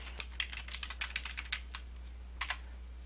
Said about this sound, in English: So I'm going to type in United States